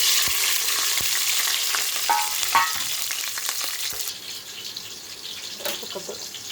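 Onion and green chilli hit a hot pan with toasted spices and rice for red lentil khichdi, giving a loud close sizzle with a few sharp clinks that gradually settles to a quieter steady fry.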